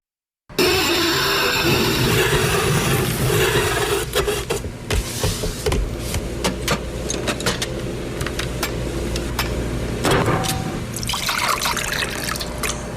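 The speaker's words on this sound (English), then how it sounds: "You wouldn't pour OJ this way" Orange juice poured in a steady, loud trickling stream that runs continuously close up, with splashing bursts and breaks in the flow; no talking.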